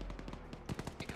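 Rapid bursts of automatic gunfire firing tracers in the Arma military video game, a fast stuttering volley of sharp close shots that turns louder and denser in the second half, with a voice faintly underneath.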